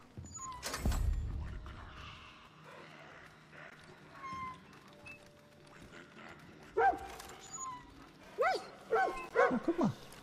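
Freed dogs in the video game Far Cry New Dawn bark and yip in short bursts toward the end, over a quiet game background with a thump near the start.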